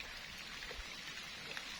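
Rain begins falling outdoors near water, a faint, even patter of drops on surfaces, low and steady with occasional slightly louder hits and no voices.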